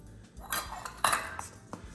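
Metal utensil clinking and scraping against a bowl while stirring biscuit dough ingredients with added salt, a few sharp clinks amid soft mixing, close up, no talking.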